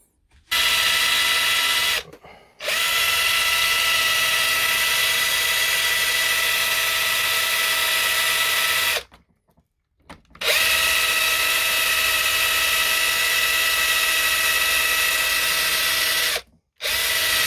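Power drill boring holes in a Cobra RX / R9 platform part, a loud steady high-pitched whine running in long continuous stretches with brief pauses between them.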